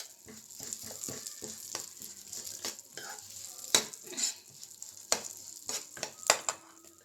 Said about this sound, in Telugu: ఇలా ఫ్రై చేసేసుకొని నువ్వుల లడ్డు అయినా కూడా వేసుకోవచ్చు